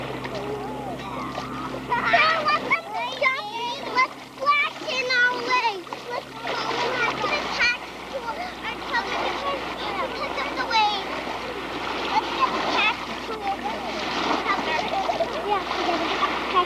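Children's voices chatter and squeal while water splashes and sloshes around them, with steady outdoor water noise throughout.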